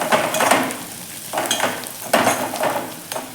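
Dry spice powders, including coriander powder, stirred and scraped in a pan over low heat for tomato chutney, giving a soft, close sizzle broken by a few louder scraping strokes, with no talk.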